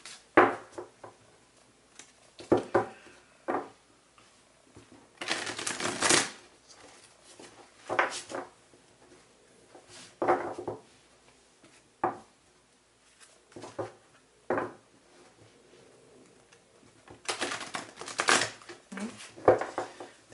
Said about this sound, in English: These cards are ridiculously hard to shuffle